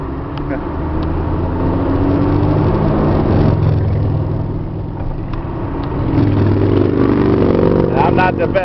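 A box truck carrying a refrigeration unit idles and revs at mid pitch during a missed gear shift, the engine droning steadily then swelling louder toward the end, with someone speaking over it.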